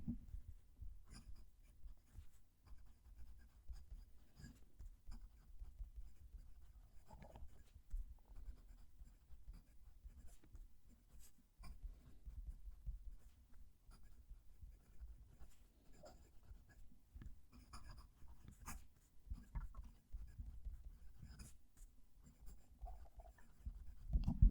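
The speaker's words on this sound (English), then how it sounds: "Let's move the mic down to the paper so you can hear the pen writing" A Laban 325 fountain pen scratches softly across textured paper with the mic held close, in faint continuous strokes and small taps over about twenty-five seconds, with no talking.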